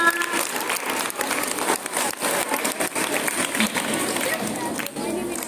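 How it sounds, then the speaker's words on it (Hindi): An audience at an Independence Day celebration claps after a song is sung, a steady wash of clapping with voices mixed in throughout. "इसके लिए तालियां।"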